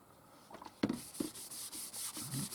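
Sanding sealer is worked onto a turned wooden bowl with soft rubbing strokes, a few brief knocks and scuffs breaking up the quiet, fairly close friction sound.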